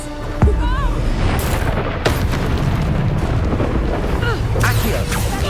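Bombarda blasting spell in Hogwarts Legacy on hard difficulty, a sharp explosive boom followed by a dense roaring rumble with more bursts, game voices speaking over the din.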